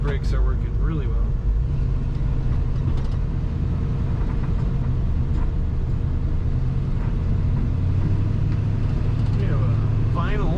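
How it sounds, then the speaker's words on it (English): A 1972 Chevrolet pickup truck drives along with a steady low engine rumble and road noise throughout, while someone talks over it continuously from inside the cab. "This truck corners really well."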